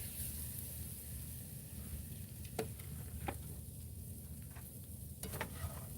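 Eggs, potatoes and sausage frying in a pan at a car-camping breakfast beside a Prius: a steady, even sizzle with a few faint scrapes and ticks, no voices.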